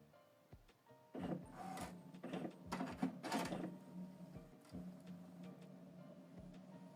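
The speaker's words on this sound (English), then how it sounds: "So now the printer is scanning the alignment paper." An HP Deskjet 4130e printer scanning an alignment sheet gives quiet mechanical whirring and motor hum broken by clicks and short grinding pulses, close by with no talk.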